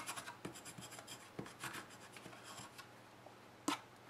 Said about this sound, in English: Just gonna grab my bone folder to press the glue to the